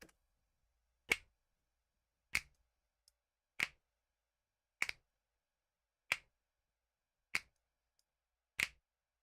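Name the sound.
finger snap samples played solo through EQ plugin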